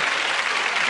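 A studio audience at a comedy panel show claps in a dense, steady burst of applause that lasts about a second.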